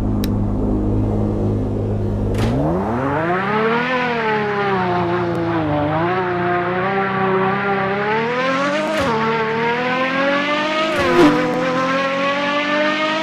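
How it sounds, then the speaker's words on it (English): The Pagani Zonda HP Barchetta in Car Dealership Tycoon revs a high-pitched, F1-like engine, its tone climbing after a low idle and rising and dipping through repeated throttle changes, with a few sharp clicks along the way. "The engine sounds like F1."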